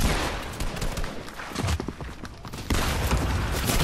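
Rapid gunfire in the Fortnite battle game, dense loud bursts of shots crackling back to back with a short lull midway before another sustained volley.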